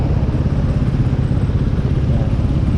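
A freshly rebuilt Raider motorcycle engine runs with a steady, loud, close rumbling drone, even and unbroken throughout.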